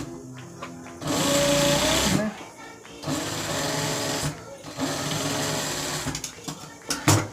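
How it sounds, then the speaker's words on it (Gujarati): A sewing machine stitching along a garment neckline, with bursts of steady rapid whirring that stop and restart, loud and close, and a voice talking briefly between runs. "અહીંયા આવી રીતે સિલાઈ મારી દીધી"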